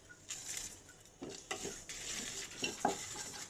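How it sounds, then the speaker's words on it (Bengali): Whole coriander, cumin and fennel seeds with dried chilies fry in a pan for chana masala, a soft hiss with scattered spoon scrapes and light metal clinks, close but fairly quiet, no voices. "এগুলো ভালো করে ভেজে নেব।"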